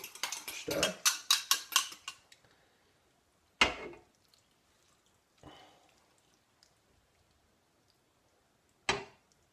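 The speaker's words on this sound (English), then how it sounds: "A quick stir" Quick stir of stock mix in a dish of cottage pie filling with potatoes: a fast run of spoon scrapes and clinks, then a few separate knocks and taps against the dish with quiet gaps between.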